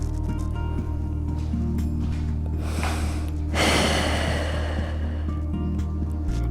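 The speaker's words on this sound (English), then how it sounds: "Exhale over." Audible exhale during a morning yoga stretch, a long breathy rush swelling near the middle and tapering off, close and moderately loud over a steady low background hum.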